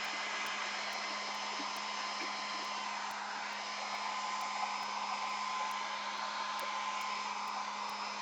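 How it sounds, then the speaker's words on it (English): A hair dryer blows hot air onto a gelli print, a steady even whir with a constant hum that runs unbroken and fairly quiet throughout. "Sometimes I cheat and let the hot air go on it for about 2 seconds"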